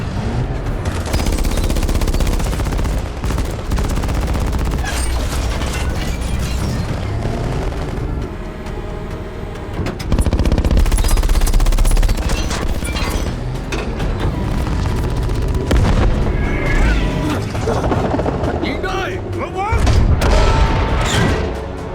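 Tank battle with repeated heavy gunfire and booming blasts over a dense, loud rumble of engines and effects, with urgent voices shouting in Thai throughout.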